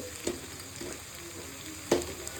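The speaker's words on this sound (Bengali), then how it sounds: "একটু ভালো করে চিকেনগুলো ভেজে নেবো" Large chicken pieces, about 700 to 800 grams, fry in a pan over high heat with a faint, steady sizzle, broken by a few soft clinks and scrapes.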